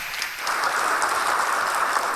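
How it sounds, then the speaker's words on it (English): Audience at the 2022 Marshalls CIIA Innovations Awards night gives a round of applause, a soft, even patter of many hands that swells slightly and continues without voices. "Can we give him a round of applause, please?"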